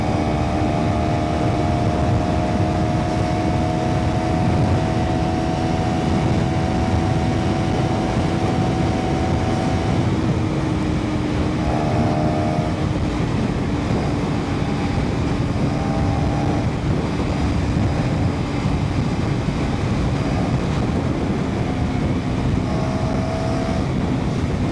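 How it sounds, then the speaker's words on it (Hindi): A KTM Duke 390 motorcycle being ridden, its engine drone loud and steady throughout with heavy wind rush over the microphone and slight pitch shifts as it changes speed. "अब इसको जल्दी से लेकर चलते हैं एक राइड पे और देखते हैं कि चलने में कैसी है।"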